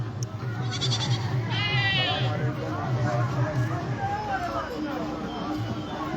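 Several goats bleat in short quavering calls near the listener, over a steady murmur of crowd chatter and talk.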